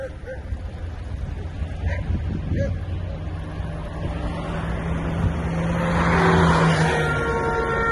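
A bus drives along a street in Nizhnevartovsk, Russia, just after striking a bear. Its engine is close, steady and then swells louder toward the end, with voices mixed in.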